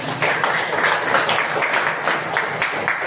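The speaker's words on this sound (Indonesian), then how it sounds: "tepuk tangan dulu untuk Anda semua" Applause from an audience at an Indonesian religious-studies lesson: a dense, steady patter of many hands clapping, moderately loud, with no voices over it.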